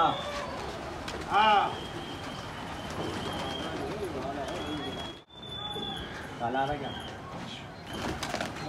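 Pigeons freshly let out of a coop coo in short bursts and flutter around feet, with scuffling and a door knock among them while someone talks excitedly over the birds.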